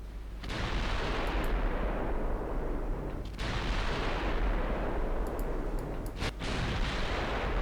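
Battlecruiser guns fire in a naval battle in Ultimate Admiral, a dense, continuous roar of heavy booms broken by two brief drops, loud and close with no voices.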